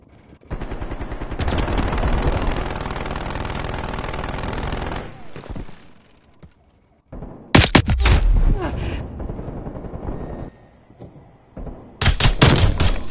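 A hostile sentry turret in a video game fires in loud, rapid bursts: a long sustained volley, a pause, a second heavy burst, then a final burst after another gap.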